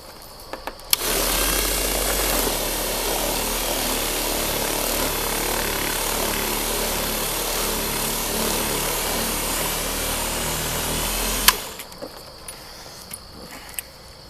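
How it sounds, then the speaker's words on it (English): Inexpensive 10-inch Kawasaki buffer polishing a foggy car headlight, a steady loud whirring motor drone with rubbing friction that runs continuously for about ten seconds, then stops abruptly, leaving quiet room tone. "I got this inexpensive 10-inch buffer made by Kawasaki."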